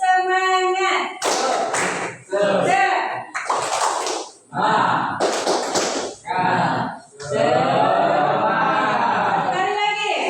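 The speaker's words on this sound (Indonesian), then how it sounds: "kita tepuk tangan dulu. Tepuk semangat. Tepuk semangat." A school class performs the rhythmic 'tepuk semangat' clap routine, sharp bursts of group clapping in patterned beats alternating with children's voices chanting along.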